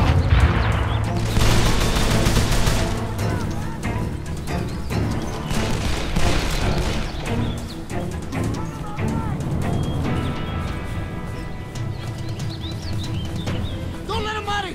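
Call of Juarez: The Cartel gameplay with a grenade blast and dense gunfire, loud booms and rattling shots layered over shouting voices and game music throughout.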